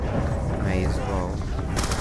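Dense, rapid gunfire in Call of Duty's Mob of the Dead zombies mode, a loud continuous clatter of shots mixed with game sounds and voices, ending in a few sharp cracks.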